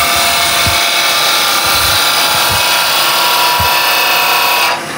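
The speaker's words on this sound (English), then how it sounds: "I changed from using the tip of the tool, that's for my roughing cuts, to a skew cut" Steady, loud rasping hiss of a gouge held like a skew chisel, taking a smooth skew cut across wood spinning on a lathe, with a few soft low thumps and no talk.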